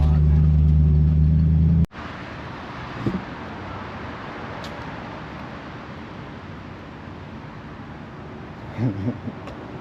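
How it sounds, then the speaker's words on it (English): A 1968 Ford Mustang with reworked rear suspension rolls along, its steady engine and road rumble heard from inside the car after a loud tonal hum cuts off abruptly. "Let's pull over and let Amanda drive now."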